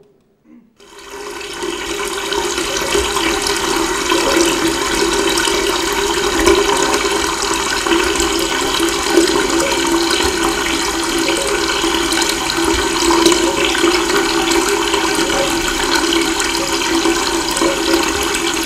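Water gushes and splashes out of a bucket in a stage gag, a loud, continuous pour that begins abruptly and keeps flowing strongly at a steady level until the end.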